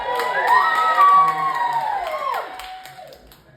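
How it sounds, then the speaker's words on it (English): A comedy club audience in Plano, Texas cheers and whoops loudly, with rising and falling shouts and some whistles layered together and scattered claps, fading toward the end. "You guys cheer one more time"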